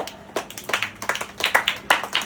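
Mourners at a wake service clapping, a short burst of scattered, uneven hand claps from a small group, fairly close and with no talk.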